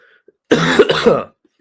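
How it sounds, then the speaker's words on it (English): A single harsh cough from a sick man during a live stream, loud and close, lasting under a second against near silence. "I'll get over this cough by like the end of the week"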